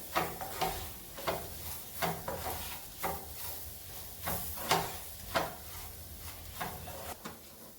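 Spiced chicken fries in a pan for biryani, giving a soft sizzle under repeated scraping and stirring strokes with a loose, uneven rhythm, fairly close and moderately quiet.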